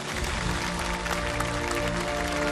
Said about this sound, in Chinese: 再一次把掌声和祝福还有我们的敬意送给他们。